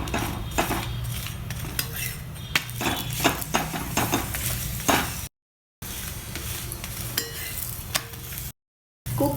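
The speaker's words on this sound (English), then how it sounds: "Now again you can turn it over and we'll add a little bit of oil for the chapati." A chapati is flipped and roasted with a little oil on a pan, with a steady soft sizzle under repeated scraping and tapping of a metal spatula against the pan, broken by two brief dropouts.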